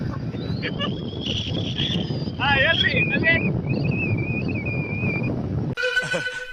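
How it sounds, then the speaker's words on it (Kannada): Wind roars across the microphone over a low motorbike engine rumble while riding. Voices talk throughout, and a short horn-like toot sounds near the end. "ನಾನು ಬೈಕ್ ಡ್ರೈವ್ ಮಾಡ್ತಾ ಇದ್ದೀನಿ."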